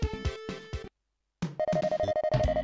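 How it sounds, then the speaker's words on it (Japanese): A telephone rings in the Super Famicom game Zero4 Champ RR as a synthesized chiptune ringtone, bright repeated electronic tones in short bursts around a brief silent gap. "電話。"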